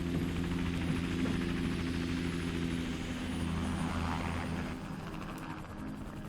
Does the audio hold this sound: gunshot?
no